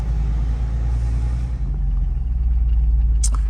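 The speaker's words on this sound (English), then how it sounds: "Let's go fire up that truck and get over to the big one." A big truck's diesel engine turns over and settles into a deep, steady rumbling idle nearby, with a brief hiss of air near the end.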